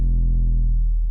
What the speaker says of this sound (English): simple 808, nothing major.